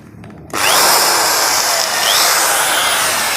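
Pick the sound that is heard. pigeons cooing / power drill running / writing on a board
power drill running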